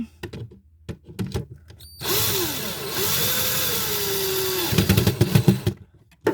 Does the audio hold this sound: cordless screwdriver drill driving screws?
yes